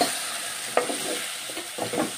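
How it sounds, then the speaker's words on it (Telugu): Okra pieces stirred in hot oil in a pan: a soft steady sizzle with a few faint scrapes and clicks of the spoon, quiet and close. "ఆయిల్ అంతా బెండకాయ ముక్కలు పట్టేలాగా కలుపుకుందాం."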